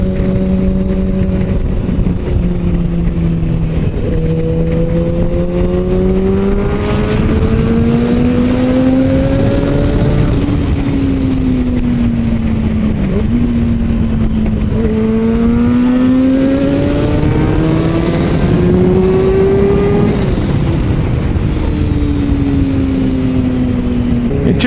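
A Kawasaki ZX6R motorcycle engine drones while riding, its pitch rising and falling as the throttle changes, loud and continuous over steady wind rush.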